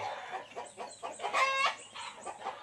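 Gamefowl chickens in training, clucking and calling in short, fairly faint bursts, with one louder, drawn-out call in the middle and some low background noise.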